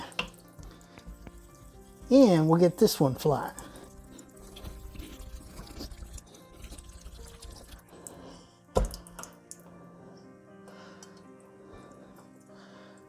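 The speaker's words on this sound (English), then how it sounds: "Now we'll go ahead and turn down that water a little bit" Steady running water from a tap fills the background while a straight razor is cleaned, with a brief loud splash or clatter early on and someone talking over it.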